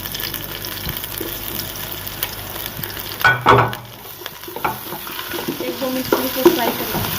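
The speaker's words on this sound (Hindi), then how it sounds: "और चिकन को फ्राई करेंगे।" Chicken frying in a pan for a restaurant-style Chinese biryani, a steady close sizzle with stirring scrapes and a brief louder clatter midway, no one speaking.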